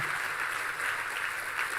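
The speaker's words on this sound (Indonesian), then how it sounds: "kalau mau tepuk tangannya yang lebih dahsyat lagi" A church congregation applauds during a sermon, a dense steady wash of clapping from many hands that fills the space loudly and evenly for the whole moment.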